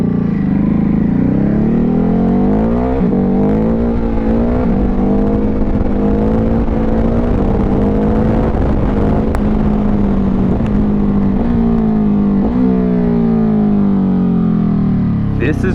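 A Ducati Hypermotard 950 SP motorcycle engine runs loud and close, its steady throbbing growl rising and dipping through repeated revs.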